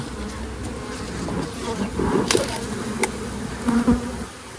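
Honeybees buzz steadily at an opened hive during a Demaree swarm-control inspection, a dense close drone with occasional individual bees passing near and faint knocks of hive frames.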